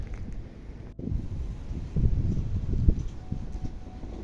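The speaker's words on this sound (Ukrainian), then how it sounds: "Ось видно наскільки сильний вітер." Strong wind on a mountain hike in the Svydovets range buffets the microphone in uneven rumbling gusts, swelling and easing without pause.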